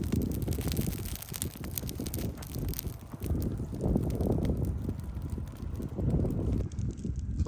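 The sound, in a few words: wind gusts outdoors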